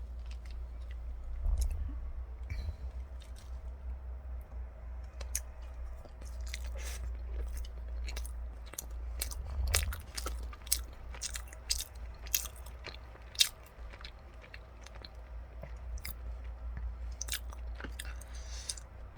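Close, wet chewing and soft biting of a mini blueberry jam-filled donut, with repeated sticky clicks and squishes over a low steady background hum, no talking.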